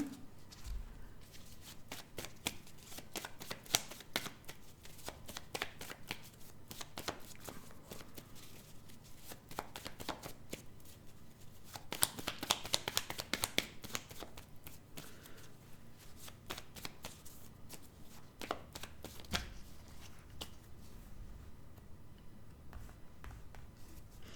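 Petit Lenormand cards shuffled by hand in repeated soft riffling bursts, close and quiet, with short pauses between runs and no talking.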